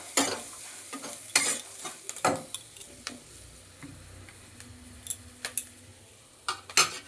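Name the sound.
frying Maggi noodles in a pan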